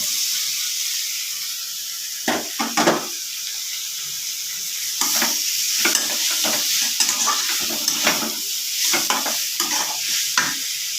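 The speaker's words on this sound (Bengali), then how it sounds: "এবার আমি ভাজাটা দিয়ে দেব পটল আলুটা" Steady sizzling in a hot pan with clattering scrapes and stirring bursts as fried potato and pointed gourd are tossed in and mixed, loud and close, no voices.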